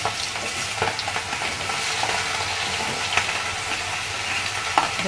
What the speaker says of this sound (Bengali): একটু বাটার দিয়ে দিলাম, তার মধ্যে তেজপাতা দিয়ে দিলাম, দিয়ে আমি এবার পেঁয়াজগুলো ছেড়ে দিলাম